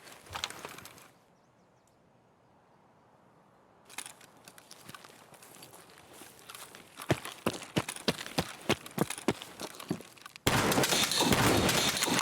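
Gunfire in a hardcore-mode shooter video game crackles as a rapid run of sharp shots in the latter half, loud and dense, after a quieter stretch of ambient noise and a brief burst at the start.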